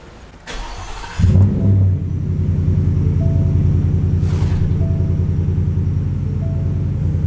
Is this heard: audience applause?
no